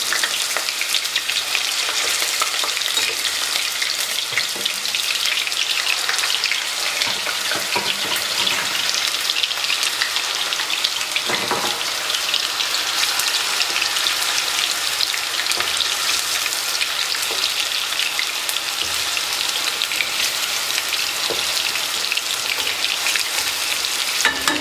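Indonesian meatballs sizzling in hot oil in a pan: a loud, dense, continuous hiss and crackle that runs unbroken throughout, close up, with no talking.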